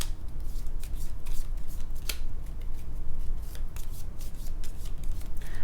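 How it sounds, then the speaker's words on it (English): Cards being shuffled over and over, with steady papery rustling and sharp flicks and snaps throughout. "I'm going to shuffle my deck."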